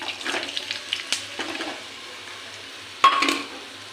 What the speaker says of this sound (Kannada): ತುಪ್ಪ ಹಾಕಿ ನನಗೆ ಬೆಲ್ಲ ಕರಗಿಸೋಕೆ ಹಾಕ್ತೀನಿ